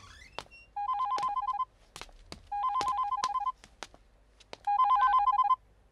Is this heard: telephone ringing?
yes